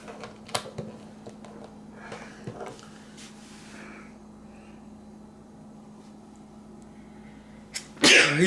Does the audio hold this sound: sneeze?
yes